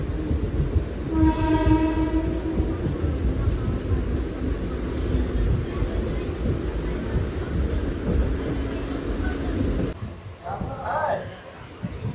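A MEMU passenger train runs on the Konkan Railway's Diva-Roha route in the monsoon, with a loud steady rumble of wheels on track and a horn sounding near the start. Near the end the roar cuts to quieter station noise with voices.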